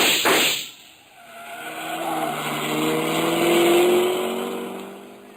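A car speeds away fast for an old detective radio drama, its engine revving up and holding a steady roar with a brief squeal at the start, loud and close with no talking.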